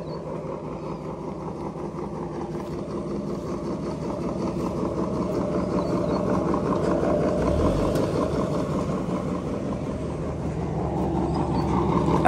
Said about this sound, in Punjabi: ਇਹ ਮੋਟਰ ਬੈਲਟ ਵਾਲੀ ਚੱਲ ਰਹੀ ਹੈ ਤਾਂ ਗੜੱਪ ਗੜੱਪ ਚੱਲ ਸਿਸਟਮ ਚੱਲਿਆ ਖੜਾ